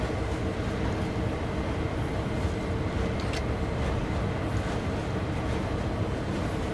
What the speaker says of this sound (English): I was meant to stop to have a train go by, and seems to have gone by.